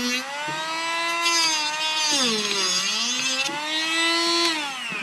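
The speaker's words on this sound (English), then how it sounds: "I keep saying Dremel, but it's actually a cordless Milwaukee." A cordless Milwaukee rotary tool whines at high speed while trimming a part for a 1/14 scale RC forklift, its pitch dipping and recovering as the bit bites, loud and close throughout.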